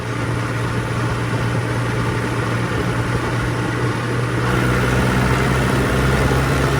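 A steady, close Arjun Novo 605 DI-i tractor engine idle with a deep low hum, running continuously without pause and growing slightly louder near the end.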